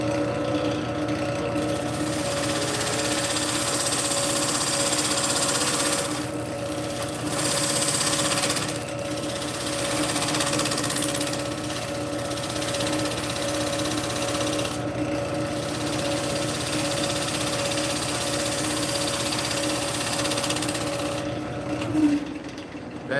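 Wood lathe spinning steadily while a Thompson Tool Company spindle detail gouge cuts the turning, a continuous loud hum and hiss with brief dips as the tool lifts off the wood.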